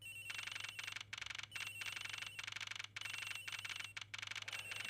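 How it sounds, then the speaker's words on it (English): Telephone ringing in the Ace Attorney Investigations video game, a repeated electronic trilling ring in regular bursts separated by brief pauses, steady and clear with no talk. "Sounds like the phone is up in the flight attendant's room."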